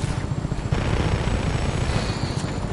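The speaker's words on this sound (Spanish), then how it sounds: "Y un helicóptero, ¿no? Por ahí, sí." Helicopter in the open-world action game Just Cause 3, a loud continuous rotor thrum with a dense low rumble holding steady across the whole stretch, with no voices.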